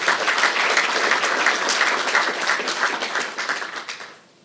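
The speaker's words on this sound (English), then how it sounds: "so please give him a round of applause." Sustained audience applause at a statesman luncheon for the Premier of New Brunswick, a dense wash of many hands clapping at steady loudness before tapering off near the end.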